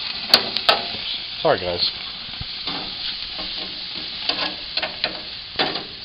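Flanken short ribs sizzling in a pan as they are flipped, a steady fry hiss broken by scraping and tapping of the utensil, with a brief spoken remark over it.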